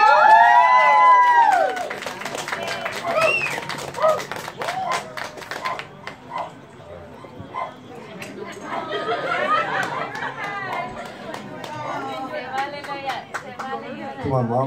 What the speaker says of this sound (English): Can I get a round of applause for them too